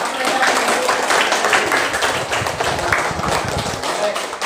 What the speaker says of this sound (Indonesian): Oke, mari kita tepuk tangan dulu.